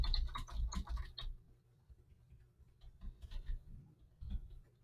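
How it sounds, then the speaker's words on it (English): Rapid keyboard typing on a computer while entering an income statement heading in Excel, a quick burst of close clicking keys followed by sparser, softer taps. "so that I can type in, let's say, income statement at the top"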